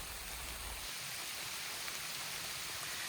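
Steady rain falling outdoors in rural Pennsylvania woods, a continuous broadband hiss of drops on surfaces, even and moderately loud throughout with no voices.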